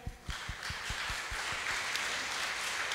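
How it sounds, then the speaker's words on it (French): Conference audience applause at a debate on isolation of elderly people, starting with a few distinct claps and swelling into moderate, steady clapping from a modest crowd. "On applaudit, s'il vous plaît."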